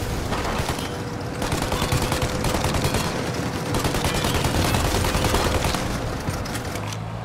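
Sustained gunfire in a Godfather video game cutscene, dense rapid bursts and overlapping shots with booming impacts, loud and continuous throughout.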